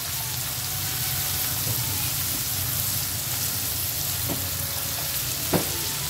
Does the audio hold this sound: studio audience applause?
no